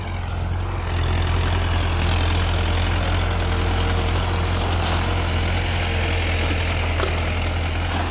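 Mahindra Arjun tractor engine running steadily at 1000 RPM in fourth gear low while pulling a 7×7 harrow, a loud continuous low rumble that holds from about the first second to the end with no talk.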